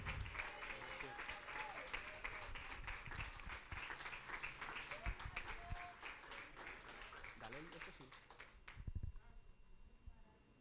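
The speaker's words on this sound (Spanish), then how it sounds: "le damos un fuerte aplauso al pastor" A church congregation gives its pastor a long round of applause, many hands clapping in a dense, continuous wash as voices talk underneath, then the clapping fades out near the end.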